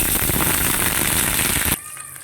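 A loud, steady hiss and crackle of water poured into hot oil tempered with cumin and green chillies, cutting off abruptly near the end to a quiet background.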